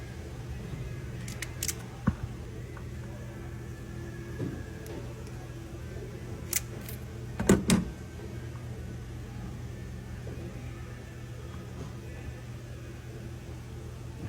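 An electrical wire is cut with a wire stripping tool. A few faint, sharp snips and clicks, with the clearest cluster near the end, sit over a low steady hum in a quiet room.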